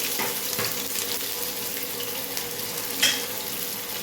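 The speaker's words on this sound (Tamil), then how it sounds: "சின்ன வெங்காயத்தை கட் பண்ணி எடுத்துருக்கேன், அதையும் போட்டுக்கிறேன்" Small shallots tipped into hot oil with cinnamon and cloves, frying with a steady close sizzle and a brief sharper crackle near the end, no talking.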